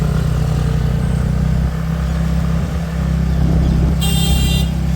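Road traffic heading toward a petrol pump in Pandharpur: a steady, close engine rumble from passing vehicles, with a short horn toot near the end.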